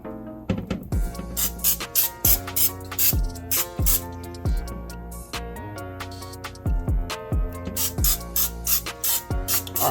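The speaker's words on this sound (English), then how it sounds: "I'm just gonna hit it with a little of the cooking spray so it can get that extra, crisp." Short bursts of cooking spray hiss onto pork chops resting on a wire rack, several quick puffs in an uneven rhythm, heard over steady melodic background music.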